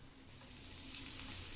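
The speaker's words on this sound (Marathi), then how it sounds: "आता आपण ह्यामध्ये बोंबील फ्राय करून घेऊयात" Bombay duck (bombil) fish frying in hot oil in a pan, a steady, soft, even sizzle that holds throughout the short stretch with no voices.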